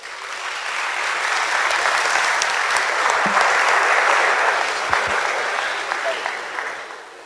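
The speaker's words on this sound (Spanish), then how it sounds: "por favor lo recibimos con un fuerte aplauso" A seated audience of teachers at a vocational training event applauds to welcome a speaker, a steady, dense, loud round of clapping that holds for several seconds and eases slightly at the end.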